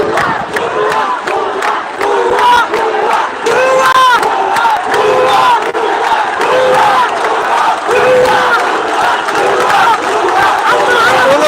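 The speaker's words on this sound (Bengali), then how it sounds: "ছাত্রছাত্রীরা এগিয়ে যাচ্ছে আসলে তারা নানান স্লোগানে এগিয়ে যাচ্ছে" Students march through a Chittagong street protest over job quotas, a dense crowd chanting slogans in rhythmic, shouted unison that rises and falls continuously.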